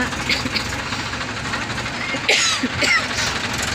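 A tractor hauling rice seedlings rumbles past at moderate distance, its engine a steady low drone with a couple of louder swells toward the end.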